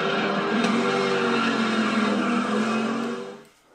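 A race car engine in a racing video game on Amazon Luna holds a steady, loud high drone for a few seconds, then drops off abruptly at the end.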